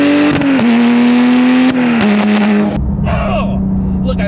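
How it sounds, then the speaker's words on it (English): A Porsche GT3 Touring with a manual 6-speed transmission revs hard and loud nearby, its engine pitch dropping sharply at each clutch-in gear shift, then settling into a steady drone. "keep your foot mashed to the ground as you put the clutch in and shift this beautiful 6-speed transmission"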